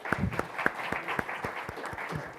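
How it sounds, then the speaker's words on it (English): A moderate round of applause from a conference audience, with sparse, distinct claps in a loose, uneven rhythm at modest volume and no voices over it. "not too great round of applause, please."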